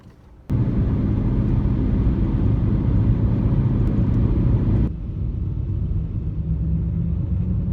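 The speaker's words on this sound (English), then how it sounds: "it's humming pretty loud. It's coming from the rear and the front tires." A car's worn wheel bearings, front and rear, hum loudly while driving: a steady low rumble starts abruptly after a short quiet moment, holds constant, then eases slightly but continues, with no talking.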